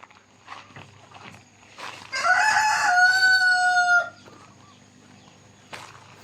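Rooster crowing loudly in a single long call among chickens at a poultry coop during egg collection, with soft clucks and rustling before and after.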